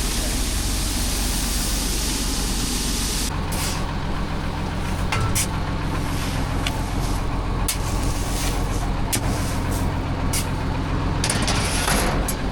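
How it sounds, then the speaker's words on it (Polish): A Massey Ferguson 6290 tractor pulling a Klein seed drill runs with a loud, steady diesel rumble close by, with sharp air-like hisses and clatters from the machinery breaking through the drone. "ciągnik Massey Ferguson 6290 i siewnik Kleina"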